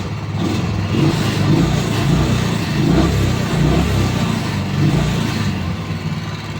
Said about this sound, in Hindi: तो इसको हम ना रेस दे के देख लेते हैं,